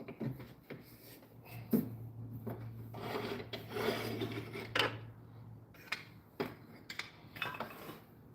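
Hand tool rasping and rubbing against a wooden walking stick turning on a lathe: uneven scraping bursts with brief pauses and a steady low hum underneath during the first part, close and moderately loud.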